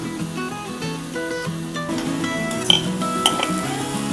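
A spoon scrapes and clinks against a pan while spicy Kolhapuri misal curry is stirred and sautéed, with a steady low cooking bed and a couple of sharper metallic taps near the end.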